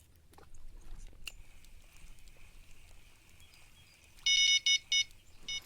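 A quiet, close setting with light background noise, then a fishing bite alarm in the video game Fishing Planet sounds sharp electronic beeps in quick bursts near the end.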